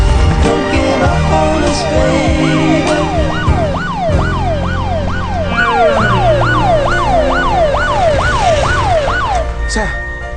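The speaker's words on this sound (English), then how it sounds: "Look, sir, follow the ambulance." Ambulance siren wailing in a steady, repeating up-and-down sweep, loud and close throughout, with background noise beneath; from a comedy chase scene.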